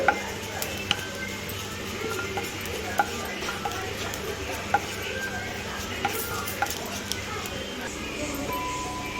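Cumin seeds roast in hot oil in a kadai with a soft, steady sizzle, while a spoon scrapes and taps lightly against the pan now and then.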